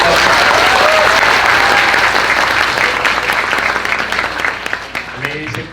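An audience at a regional science and technology week awarding ceremony claps loudly and steadily, the applause tapering off toward the end as a speaker's voice comes in.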